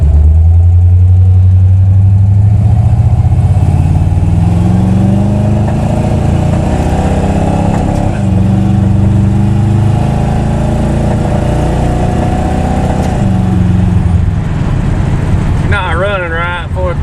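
A small-block Chevy 350 V8 with a four-barrel carburetor, fitted in a 1987 Dodge Dakota, pulls from a roll, its loud rumbling drone rising and falling steadily as the truck gains speed, with a voice speaking over it.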